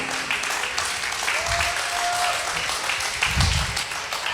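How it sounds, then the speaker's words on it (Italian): Steady applause from an audience at the Sonus de Vida 2025 event, dense clapping that holds at an even level throughout, with faint voices and a brief tone mixed underneath. "Non ci sono parole, solo applausi"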